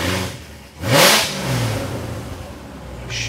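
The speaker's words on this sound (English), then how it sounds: "You shouldn't be revving on a cold engine" A C7 Corvette's cold engine revs sharply once, climbing to a loud roar before settling back into a rough idle, heard close up.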